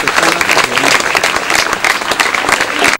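An audience at a stage event honouring elders and dignitaries in Gulbarga claps loudly and steadily. The dense applause continues throughout with no voices, then cuts off at the end.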